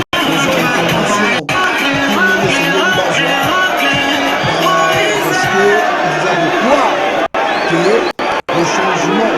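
A dense crowd accompanying Congolese presidential candidate Moïse Katumbi, loud continuous chanting, cheering and shouting close by, with a few abrupt cuts in the sound.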